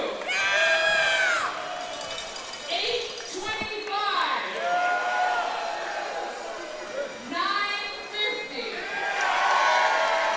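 A loud arena crowd cheers and shouts in repeated swelling bursts during a cow weight-guessing game at a Flying Cows opening-night game against Reading, with an announcer's voice heard in between.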